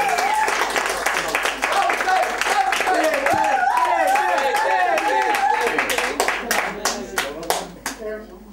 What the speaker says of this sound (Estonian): tehke Peeter üks suur aplaus